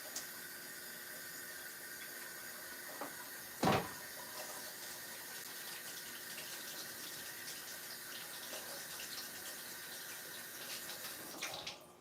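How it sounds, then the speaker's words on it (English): A kitchen tap runs in a steady, soft, faraway wash while someone washes their hands, with one sharp knock partway through and another clatter near the end, and no talking. "I'm going to wash my hands."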